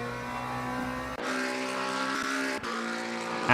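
A GT3 race car in the Le Mans Ultimate racing game, engine droning at high revs with abrupt cuts on two upshifts, continuous and fairly loud, no talking.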